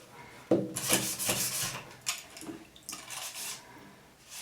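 Fine sandpaper rubbed across wood in a series of rasping strokes, each a short scratchy burst with uneven rhythm, close and clear with no talking.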